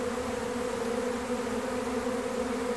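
A honey bee swarm arriving at a hive beside a bramble thicket, a steady dense buzzing drone of many bees, close and continuous with no voices.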